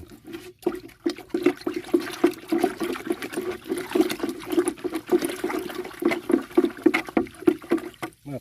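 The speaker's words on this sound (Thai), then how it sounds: "ทำการคนให้เข้ากันนะครับ เราจะคนให้เข้ากัน" A liquid pest-control mixture for garden plants being stirred in a container, with rapid rhythmic sloshing and swirling water that is loud and close, alone without talk.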